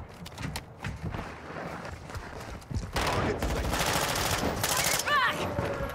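Shotgun gunfire in Modern Warfare multiplayer: a rapid cluster of loud game shots and explosive bursts following quieter footsteps and clatter, with mechanical reload-like chirps near the end.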